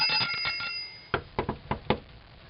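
A bicycle bell rings in a quick rapid trill, then five separate single dings follow at a slower, uneven pace, close and clear.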